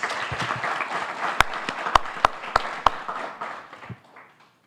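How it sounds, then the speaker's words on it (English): Audience at a seminar gives Dr. Siemers a round of applause, a moderate patter of clapping with a few sharp close claps standing out before it dies away. "So a big round of applause to Dr. Siemers"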